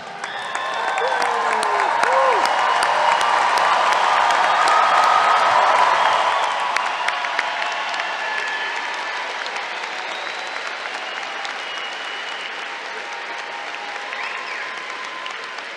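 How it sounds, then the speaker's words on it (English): Sustained applause from a large audience honoring graduates at a college commencement ceremony, dense steady clapping that swells early then eases slightly but continues throughout, with faint crowd murmur. "Let's give them one more round of applause."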